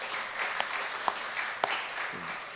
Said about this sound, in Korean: 수고하신 분들 한번 박수 한번 보내주세요.